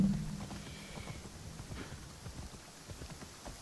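Steady hoof clip-clops from a horse in Assassin's Creed Shadows, a quick regular rhythm at moderate volume with no talking.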